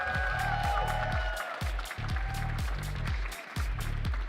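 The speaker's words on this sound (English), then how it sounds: "Give a nice round of applause for our finalists here, Neil Patel." Steady crowd applause for Pokémon regional championship finalists, spread evenly across the whole stretch and mixed with a thumping, pulsing music beat underneath.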